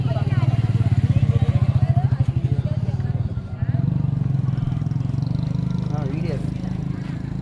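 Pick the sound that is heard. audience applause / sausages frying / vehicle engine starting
vehicle engine starting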